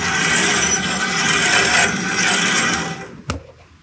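A saw blade rubs against its guide in a workshop, giving a close, continuous grinding friction that fades out near the end, followed by a single sharp knock.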